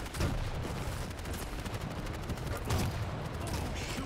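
Continuous gunfire fills an arena match in Quake Champions, overlapping rapid shots and bursts from several weapons at once, dense and sustained, with no voices.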